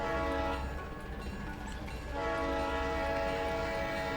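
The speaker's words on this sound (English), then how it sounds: "See, the train's automatically horning and belling at the crossing right in front of me because the AIs know." A video game train sounds a sustained, loud multi-tone horn at a crossing, with a steady rumble beneath and a brief dip in the middle.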